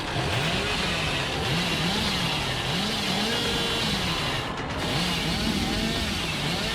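Video-game chainsaw in Dead by Daylight revving continuously, a loud steady motor drone with rising and falling pitch waves throughout, no talk over it.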